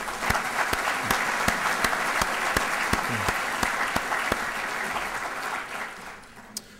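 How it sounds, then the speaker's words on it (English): An audience at an entrepreneur awards ceremony gives sustained applause for the event sponsors, a dense, steady wash of clapping with sharp individual claps standing out, tapering off at the end. "If we could please have a round of applause for all of our sponsors."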